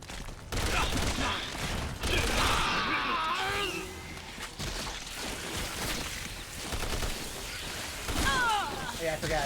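Gunfire and shotgun-like bursts of chitinous projectiles from a creature in the Resident Evil 6 video game, a dense, continuous clatter of shots and impacts mixed with music and effects throughout, with talking over it.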